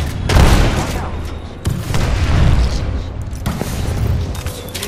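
Gunfire and explosive booms in an Apex Legends battle, loud dense bursts of shots recurring in waves over a constant rumble, with a faint voice mixed in.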